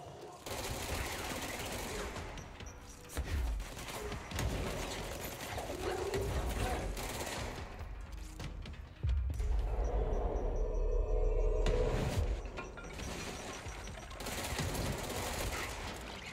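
Grenades launched repeatedly in the video game Control, bursts of heavy thumping blasts and rattling gunfire in rough clusters, loud and dense, with a lull midway before another intense barrage.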